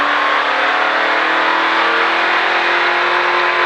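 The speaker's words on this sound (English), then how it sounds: "Back on the gas, up by the wall." Stock car on a race track, driven as part of a Richard Petty driving experience at Disney, accelerating hard up by the wall: a loud, steady, close engine roar with a high-pitched whine running unbroken throughout.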